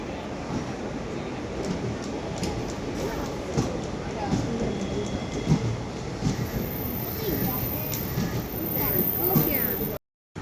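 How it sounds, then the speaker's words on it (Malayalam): A local train carries passengers, giving a continuous rumble and rattle of the carriage in motion. Indistinct voices sit around the noise until it stops abruptly at the end. "അപ്പോൾ നമ്മളങ്ങനെ ട്രെയിനിൽ കയറിയിട്ടോ. ട്രെയിനിൽ കയറി ഇരുന്നിട്ടുണ്ട്. നമ്മൾ ലോക്കലിലാട്ടോ കയറിയത്."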